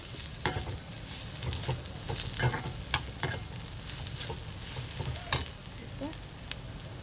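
A bitter gourd fry is stirred in a hot pan, a spatula scraping and clinking in scattered strokes over a soft, steady sizzle of frying, close and fairly quiet.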